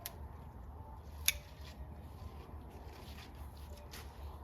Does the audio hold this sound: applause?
no